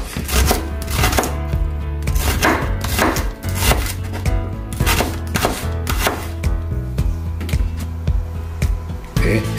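Onion being coarsely sliced with a knife on a cutting board, a steady run of loud, rapid chops close by with no talking.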